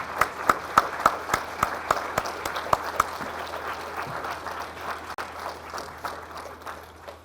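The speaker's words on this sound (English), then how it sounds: "Let's get another round of applause for our nation's heroes." An audience at a Veterans Day program at a VA medical center claps for veterans, a few loud rhythmic claps up front, then a fading, scattered round of applause.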